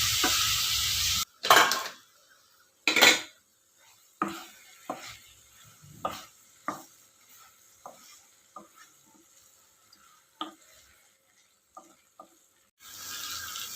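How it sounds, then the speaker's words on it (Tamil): Ivy gourd sautéing in a covered pan, with a soft sizzle under a lid, sharp clanks of a lid and utensil at the start and end, and scattered scraping stirs in between. "மூடி வைங்க நல்லா வதங்கட்டும்"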